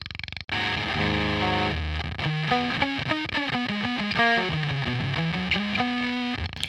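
Electric guitar run through a Sonicake Wave Crush pedal with all knobs at noon, playing a melodic line loudly with added noise and gritty digital distortion, and no talk.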